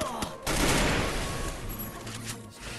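Rapid SCAR rifle fire in the mobile game Garena Free Fire, a dense loud burst of shots through most of the moment with a short lull, game effects layered beneath.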